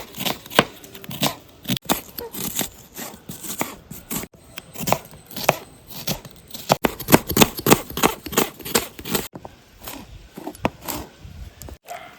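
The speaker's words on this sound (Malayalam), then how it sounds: "നമുക്ക് സവാളയും പച്ചമുളകും അരിഞ്ഞു കൊടുക്കാം" A knife chopping onion and green chillies on a board for a papaya recipe, with irregular bursts of crisp, close cuts throughout and brief pauses between runs.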